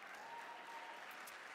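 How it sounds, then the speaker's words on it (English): A crowd applauding the speaker's mother at the official launch of the BYD Atto 2: dense, even clapping held steady for the whole short stretch, faint and distant. "Give her a round of applause."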